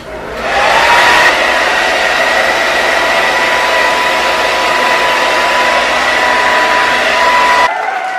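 A blow dryer runs on stage with a steady loud whirring roar that holds for several seconds before cutting off near the end.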